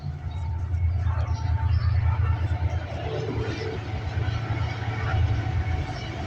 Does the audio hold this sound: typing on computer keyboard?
no